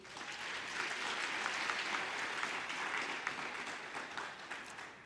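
Graduates at a Faculty of Commerce graduation ceremony applaud themselves, a broad, fairly soft and steady roar of many hands heard from a distance, with no talk.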